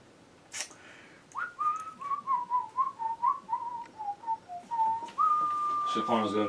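A person whistles a wavering melody of about a dozen short, closely spaced notes, then ends on one long held tone, loud and near, with a brief sharp sound before it starts.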